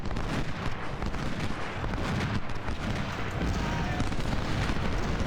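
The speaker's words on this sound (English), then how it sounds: "10-pounder ordnance rifle." Booming artillery fire from a 10-pounder ordnance rifle in a Civil War strategy game, Ultimate General, at the Gaines Mill battle, rolling and dense with continuous rumbling blasts and a busy battlefield din throughout.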